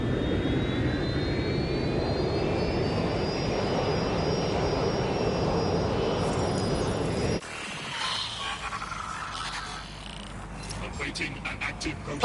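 A jet airliner's engines roar steadily in the video game Watch Dogs Legion, a loud sustained drone with a rising whine, then cutting to quieter game ambience with faint clicks.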